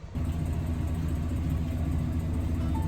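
A truck hauling cedar and sugi wood drives along the road, giving a close, steady low engine rumble with constant road drone from start to finish and no talking.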